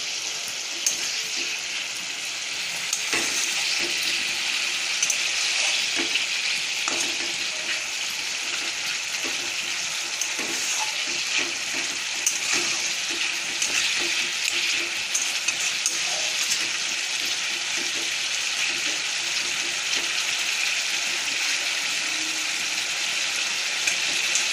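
Raw papaya curry fries in a pan while being stirred, making a continuous hissing sizzle with occasional faint scrapes, steady and moderately loud throughout with no talk.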